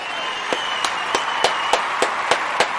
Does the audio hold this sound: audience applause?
yes